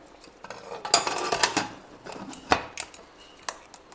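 Metal clanks and scrapes of a lid being set onto a pot of vegan protein biryani on a low-simmer stove, several sharp clinks over a couple of seconds, close by with no talking.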